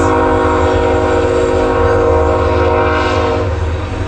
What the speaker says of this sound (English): That was a long one. Freight train.